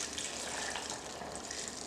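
Water pours steadily into a container while homemade applesauce is being made, a soft, continuous splashing rush at low volume with no speech.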